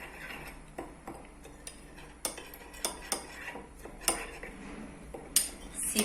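A spoon stirs coffee powder into a homemade natural paint, clinking and ticking against the container in an irregular run of small taps, close but quiet, with no talking.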